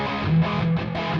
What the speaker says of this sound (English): some clean guitars. Let's make them dirty.